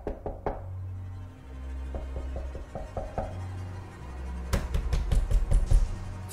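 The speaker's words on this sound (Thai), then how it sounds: "เสียงเคาะนั้นยังดังขึ้นเรื่อยๆ" Knocking on the front door of a house at night, several bursts of sharp knocks: a few at the start, a quicker series in the middle, then a louder, faster run of raps toward the end over a low background hum.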